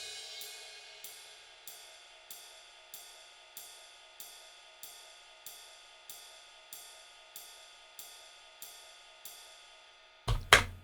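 A ride cymbal in a hip-hop beat plays a steady, even pattern of bright shimmering strikes, about one and a half per second, each ringing and decaying, heard alone before a louder crash-like hit near the end.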